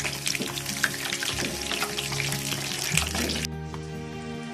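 Phulkiyan, small fried dumplings for dahi phulki, sizzle and crackle in hot oil in a home kitchen, a busy continuous bubbling hiss with steady tonal background music underneath.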